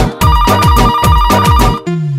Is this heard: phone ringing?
yes